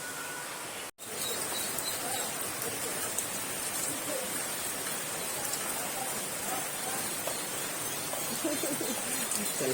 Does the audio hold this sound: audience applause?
no